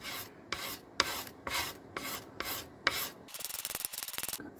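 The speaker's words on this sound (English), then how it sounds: "I'm sanding just until I see the fingerboard show through" Rhythmic hand sanding of the finish off a wooden bass guitar body, about eight steady back-and-forth rasping strokes, close and fairly loud, ending in quicker, choppier scrubbing.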